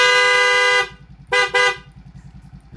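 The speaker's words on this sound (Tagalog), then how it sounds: "Tapos, busina tayo." A car horn upgraded with new wiring honks: one long blast, then two short toots, over the steady rhythmic idle of the engine, with no voices.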